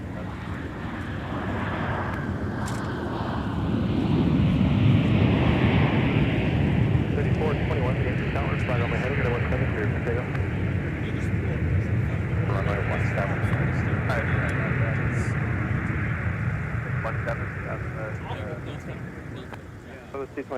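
An airplane landing at Minneapolis–St. Paul airport produces a loud, sustained engine roar that swells and then slowly fades. Wind buffets the microphone, and radio chatter can be heard underneath.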